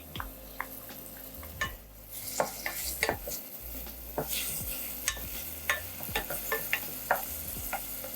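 Garlic frying in a pan for a pizza burger sauce, a soft constant sizzle punctuated by frequent sharp spatula clicks and scrapes against the metal as it is stirred.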